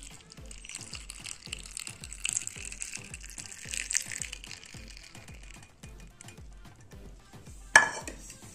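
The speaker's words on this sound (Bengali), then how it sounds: "তো এটা আমি কাপে ছেঁকে নেব।" Herbal kadha strained into a cup at home: a steady run of soft, regular clinks and trickling sounds, fairly quiet and close, with one sharper clatter near the end.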